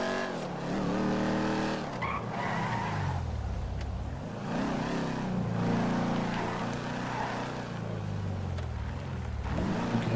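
A car in the video game Grand Theft Auto V races with a loud, steady engine roar and repeated tire squeals and skids, its pitch rising and falling through gear changes, with no talk.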